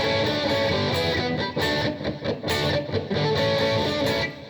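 Distorted electric guitar plays the riff from a song, loud and continuous with choppy muted strums between ringing chord hits, alone with no talking.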